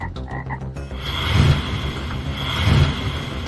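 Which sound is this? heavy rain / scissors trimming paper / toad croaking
toad croaking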